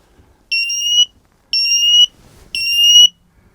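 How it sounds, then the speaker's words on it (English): A FireAngel combined carbon monoxide and fire detector in a caravan sounds its test alarm: three loud, piercing electronic beeps of about half a second each, evenly spaced and close, with near silence between them. "we've fitted a brand new fire angel, carbon monoxide and fire detector"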